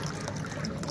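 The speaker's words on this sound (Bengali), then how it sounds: "জল ভরছি এখন" Tap water runs steadily into a container at home, a close, continuous trickling pour that holds even throughout with no voices.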